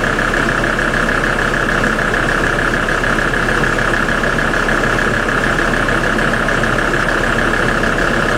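A diesel engine idles steadily throughout during an injector test, a continuous close, loud mechanical drone with a constant, even running rhythm and no talking.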